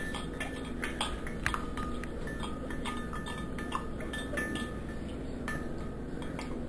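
A spoon clinks and scrapes repeatedly against a glass of water as it stirs in salt to dissolve, a steady quiet rattle with occasional sharper taps.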